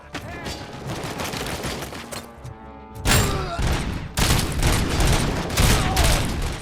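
Explosions and gunfire in RoboCop: Rogue City, with paint cans and drywall blasting apart: dense rapid bursts of shots and booms, a brief lull, then heavier loud blasts and crackling.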